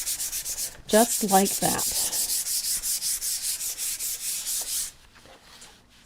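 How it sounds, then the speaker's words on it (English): Hand-sanding painted wood to tone down overly bright paint spots, a close run of rapid, rhythmic scratchy strokes lasting several seconds before easing off; someone speaks briefly at the start. "if you find a spot that's a little brighter than you think it should be, you can sand it a little"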